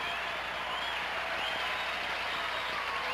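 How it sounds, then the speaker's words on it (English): Studio audience applause on the Card Sharks game show, a dense, continuous wash of clapping at steady volume with no break. "sometimes the audiences start clapping spontaneously along with the applause"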